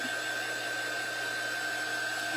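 Hair dryer blowing on a thrifted metal can being crafted into a jack-o'-lantern, a steady, even whoosh with a constant motor hum, running alone throughout.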